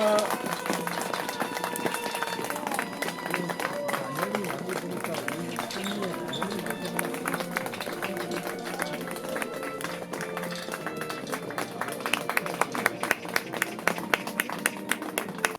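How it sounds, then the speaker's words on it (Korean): Audience applause at a ceremony marking a 71st anniversary as a flag is raised, a steady dense patter of many hands running throughout, growing sharper and more rhythmic toward the end, with voices mixed in. "박수 부탁드리겠습니다"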